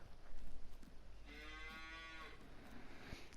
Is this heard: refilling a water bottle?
no